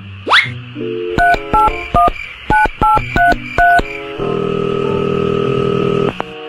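A rapid run of touch-tone keypad beeps, each a short, distinct tone, followed by a steady ringing tone on the line.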